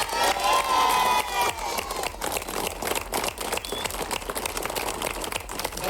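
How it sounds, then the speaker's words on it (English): Crowd applause and cheering at an Irish turf cutting championship in Rhode, County Offaly, for a winner; dense, continuous clapping, loud at first then steady, with scattered shouts. "Give a big round of applause and a big hand for Martin Brennan."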